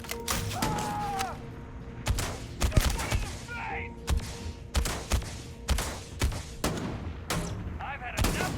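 Gunfire in the space game Starfield: repeated sharp shots and bursts with loud thumps, spread irregularly across the stretch and mixed with in-game effects and brief voice sounds.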